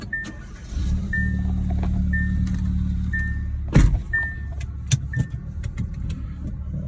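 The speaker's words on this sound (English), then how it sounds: "put the windows down, so we have some air in here" Power windows on a Hyundai Veloster with a low tire pressure warning whir down inside the car over a steady engine hum. Short repeating chime beeps and a few clicks sound up close.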